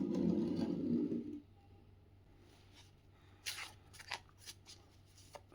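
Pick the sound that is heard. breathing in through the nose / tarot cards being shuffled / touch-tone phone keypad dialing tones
tarot cards being shuffled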